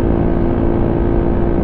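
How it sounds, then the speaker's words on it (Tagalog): Suzuki Raider 150 motorcycle engine running at a steady, continuous low drone, held close and loud with no break in the sound. "Ang ganda ng motor ni tatay"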